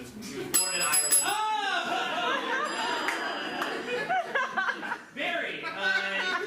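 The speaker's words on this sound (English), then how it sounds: "the bell is rung" A bell rings out on a debate-style game show stage, its bright tones ringing over audience laughter, chuckles and chatter, with a brief lull near the end.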